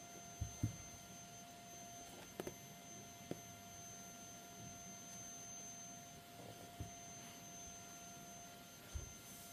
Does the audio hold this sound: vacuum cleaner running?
yes